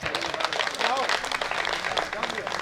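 An audience at a Hindi kavi sammelan poetry gathering claps warmly to welcome poet Atul Bajpai, a dense, steady wash of applause that holds for a few seconds.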